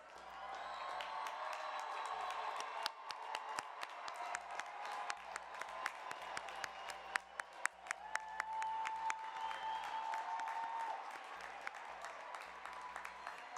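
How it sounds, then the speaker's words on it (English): Graduation commencement crowd applauding the graduates, a dense sustained wash of many hands clapping with sharp individual claps standing out, a low hum running underneath throughout. "let's give them a round of applause"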